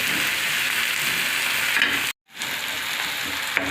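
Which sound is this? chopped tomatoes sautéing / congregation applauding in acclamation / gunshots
chopped tomatoes sautéing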